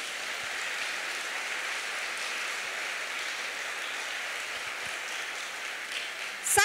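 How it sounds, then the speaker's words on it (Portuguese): A church congregation at a youth conference applauds, giving a soft, even wash of clapping that holds steady throughout and swells slightly at the close. "Você pode aplaudir Jesus por isso?"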